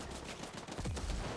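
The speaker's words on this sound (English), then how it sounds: "The explosion killed me." Video game explosion in The Ascent, a sudden loud burst and rumbling boom that follows a stretch of crackling gunfire-like blasts, with no speech.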